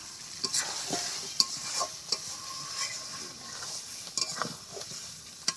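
Mutton kosa being stir-fried with two potato pieces and garlic cloves gives a close, moderate sizzle, punctuated by repeated sharp spatula clinks against the pot, with no voices.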